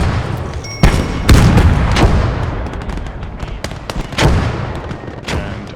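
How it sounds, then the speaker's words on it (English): Battlefield gunfire in Gates of Hell, with sharp repeated shots and heavy booms scattered across a dense combat din, loud and close with irregular bursts. "I decide to bring in a machine gun for extra support"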